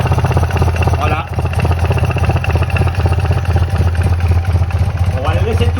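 A BMW R80 R motorcycle engine idles as it warms up after a restoration, a loud close steady throb running throughout while someone talks over it.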